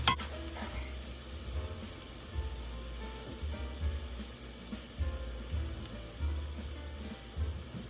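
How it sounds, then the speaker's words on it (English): Bulbous spring parsley roots fry in a pan with a steady, crackling sizzle, punctuated by stirring and pushing sounds, with no talk. "Put the roots into the pan."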